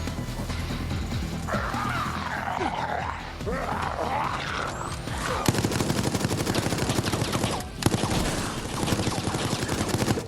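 Video game gunfire crackles in rapid bursts, dense and loud, taking over after a stretch of mixed creature-like game noise, with no talk heard.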